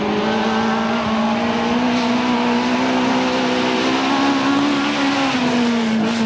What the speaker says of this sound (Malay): Ini ialah kereta Subaru Vivio yang dipandu oleh pasangan dari Jepun, Tomoji Kawano dan Megumi Inoue.